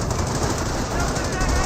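A .30 cal machine gun in Company of Heroes rattles in a steady, rapid burst of automatic fire, with a voice talking over it.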